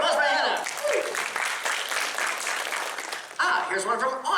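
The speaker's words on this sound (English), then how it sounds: "Round of applause for Hannah." Applause from a convention crowd at a Galaxycon Q&A with a comedian, steady and room-filling, with speech over the start and end.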